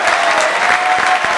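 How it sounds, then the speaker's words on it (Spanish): An audience claps steadily for a conference team, a dense, even wash of applause that carries unbroken from start to finish with no voices over it. "Un aplauso para todo el equipo de Perú."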